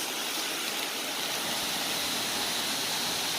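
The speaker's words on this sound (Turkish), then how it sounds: "Tam olarak şelalenin dibindeyim." A natural waterfall heard from its base, a steady, loud, roaring wash of falling water that fills the whole moment without a break.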